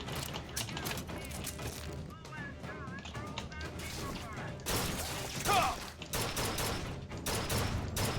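Gunfire in BioShock Infinite, a dense burst of rapid shots in two main stretches with heavy recoil, loud and close over game noise and music, with a voice talking alongside.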